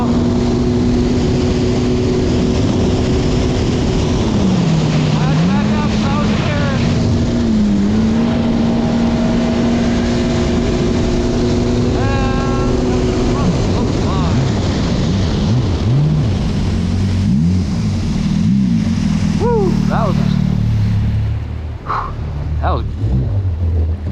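The J.S.B. Interceptor RC speedboat, fitted with a custom ride plate, screams through laps with a loud, constant high-pitched motor whine that rises and dips through the turns, under occasional talk.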